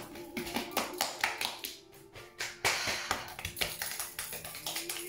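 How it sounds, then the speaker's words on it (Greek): Soft, irregular taps of hands patting along the body during a pre-singing warm-up, a close, steady run of light thuds and slaps with brief pauses. "Ξεκινάμε λοιπόν και χτυπάμε πολύ πολύ απαλά."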